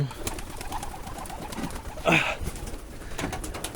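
Pigeons in an autumn loft, coos and soft bird calls repeating over a low ambient hiss, with one louder close coo near the middle and no talking.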